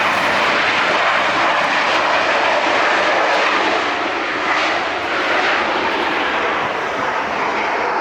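An SAS airliner lands at LAX, its engines a loud, broad roar that holds steady and then eases slightly as it rolls out on the nose gear, heard from nearby without voices.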